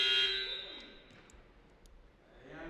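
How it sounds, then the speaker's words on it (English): End-of-quarter buzzer at a women's college basketball game in a gym: a loud, harsh electronic blare at the start that fades into crowd and arena murmur. "there goes the buzzer"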